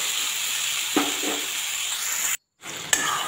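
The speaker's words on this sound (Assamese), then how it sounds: "আৰু এতিয়া আলুখিনি লৰাই অকণমান সিজিবলৈ দিওঁ।" Potatoes stirred in a cooking pan give a steady sizzling, scraping texture, with a couple of soft stirring scrapes and a brief silent break before the sizzle resumes.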